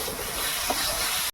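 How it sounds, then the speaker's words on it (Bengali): Fried potatoes go into hot spice masala for a tilapia curry, a dense steady sizzle and hiss of oil up close, ending abruptly. "এবার আমি ভেজে রাখা আলুগুলোকে দিয়ে দিচ্ছি।"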